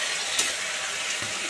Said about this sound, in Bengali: কাঁচা ছোলাটা সেদ্ধ করে নিয়েছিলাম, তাই অল্প একটু নেড়িয়ে চাড়িয়ে জল দিয়ে দেবো।